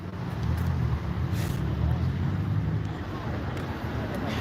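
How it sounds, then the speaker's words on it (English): A BMW car at the Nürburgring gives a low, rough, tractor-like engine drone that holds steady with faint wind noise, while people talk over it. "Sounds like a tractor, that BMW."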